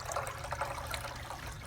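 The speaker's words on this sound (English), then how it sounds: "my review of the Glenville water fountain cascading" Soft, steady trickle of water spilling down a Glenville cascading tabletop fountain with a water pump, a continuous gentle splashing with no voices.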